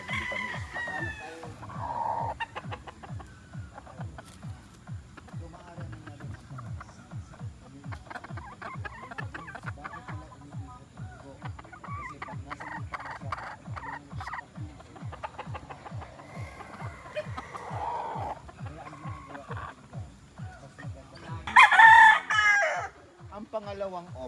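Chickens at a poultry breeder's farm cluck in a steady, rhythmic stream, and a rooster lets out a loud crow close by near the end.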